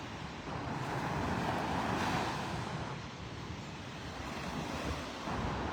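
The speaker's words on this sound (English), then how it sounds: "A few more waves than yesterday morning. The water's pretty churned up." Ocean surf at Delnor-Wiggins Pass beach in Florida churns in a steady, broad wash, with the waves rising and easing gently under a light hiss of wind.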